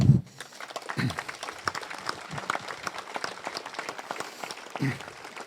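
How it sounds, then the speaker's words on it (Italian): Scattered clapping from an outdoor crowd at an Alpini regional gathering in Cappella Maggiore, sparse and uneven rather than a dense roar, with a few louder thumps mixed in. "vorrei anche fargli un applauso a tutti questi signori"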